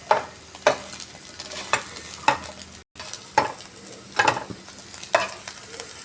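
Eggs frying in oil in a pan give a steady soft sizzle, broken by regular scraping stir strokes about every second, close and moderately loud.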